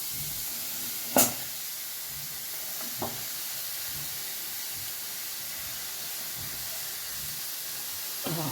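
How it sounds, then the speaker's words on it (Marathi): Green tomatoes and onion dry-roasting without oil in an iron kadhai, a steady soft hiss and sizzle throughout with a sharp click near the start and a fainter tap later. "मी तेल न टाकता टोमॅटो भाजून घ्यायला लागले चांगल्या पद्धतीनं आणि त्याच्यातच मी कांदा पण भाजून घेणार आहे"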